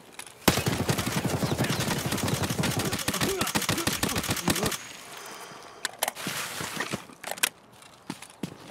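Rapid bursts of automatic gunfire in the video game Escape From Tarkov, loud and dense for about four seconds, then scattered single shots and clicks trailing off.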